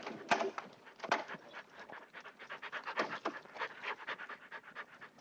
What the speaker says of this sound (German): Oh mein Gott, die Hunde, unmöglich das zu ertragen.